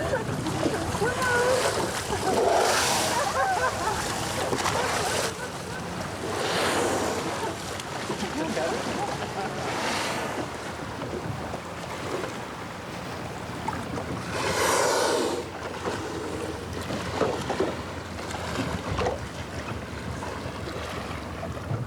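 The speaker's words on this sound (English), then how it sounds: "Splash the water, please splash the water." Sea water splashed by hand from a small boat near grey whales off Baja California, repeated close splashes over waves and wind, with people talking throughout.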